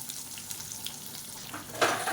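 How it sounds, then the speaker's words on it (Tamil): A handful of onions sizzles in hot oil in a pan with curry leaves and a pinch of asafoetida for hotel-style tiffin sambar. The soft, close frying crackle is stirred now and then, with a louder burst near the end. "வெங்காயம் நல்லா பொன்னிறமாக வதங்கணும்."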